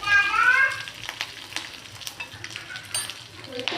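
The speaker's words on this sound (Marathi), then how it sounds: "आणि आता याला आपण हलवून घेऊया" A chivda mix of corn flakes with red masala, turmeric and salt is stirred in a frying pan, a soft sizzle under scraping and rustling strokes close by.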